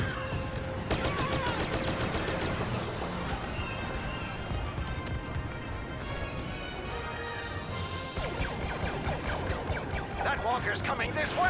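Gunfire and crashing blasts from a Star Wars video game battle against an exposed walker, with sharp repeated shots and impacts layered densely throughout, under a busy mix of combat effects and in-game voices.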